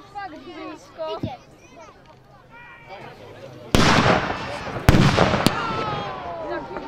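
Loud blasts of howitzer artillery fire during a reenactment of Slovak National Uprising battles in the Rimava valley, a sharp boom near four seconds and another near five, with rumble lingering after each over a backdrop of crowd chatter.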